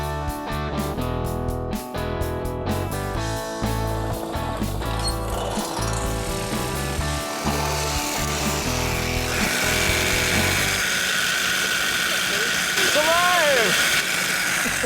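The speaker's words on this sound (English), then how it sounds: "I prefer a simple jigsaw because it's quick, it's very maneuverable, and the cuts are extremely clean" A jigsaw cuts metal parts on a late-60s style '32 Ford hot rod roadster build, giving rapid rhythmic buzzing strokes for about ten seconds, followed by quieter shop noise with a brief squeal.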